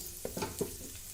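Ingredients fry quietly in a pan for Bangladeshi hilsa polao, a faint steady sizzle with three or four soft spoon taps close by.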